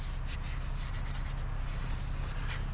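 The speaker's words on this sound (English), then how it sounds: "I'm going to do the dry rub now," Dry cloth rubbing a headlight ring during an LED headlight conversion on a 1984 Honda CT-110, quick repeated scrubbing strokes, close and fairly quiet, over a low steady background hum.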